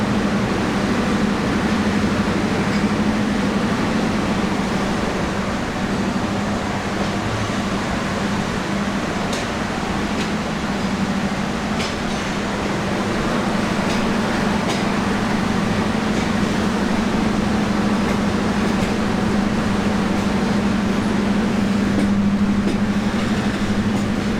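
Burimari Express pulling out of Bogura railway station, heard from inside the carriage: a loud, unbroken low drone of wheels and coach hum with a steady rattle and occasional faint clicks, no talking.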